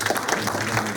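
Short burst of audience applause at the opening ceremony of the 10th Hope Windmill charity walking and plogging campaign. It lasts about a second, with a voice and a low tonal hum underneath.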